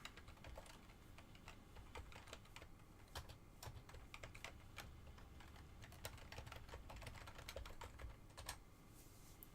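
Steady typing on a computer keyboard, a continuous run of quiet, irregular key clicks over several seconds, close and alone with no talking.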